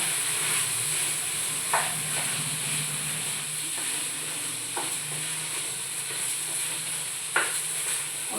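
Steady loud sizzling of meat frying in a pan, with a few scraping stirs of a spoon breaking through at intervals.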